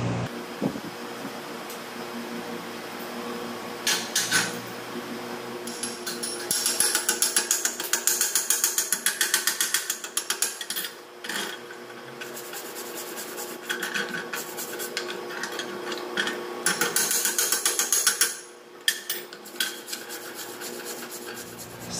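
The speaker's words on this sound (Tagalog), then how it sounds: "using a chipping hammer, chip off the slag from the bead and use steel brush to remove the remnants of the" Chipping hammer knocking slag off a flat-position close butt joint weld bead, then a steel wire brush scrubbing the remnants, heard as close, steady raspy scraping in repeated bursts with brief pauses.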